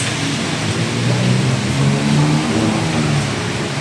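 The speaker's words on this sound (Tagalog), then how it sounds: "Lakas talaga ng ulan guys." Dense, steady roar of heavy rain in Davao with a low engine-like rumble running underneath, loud and continuous throughout.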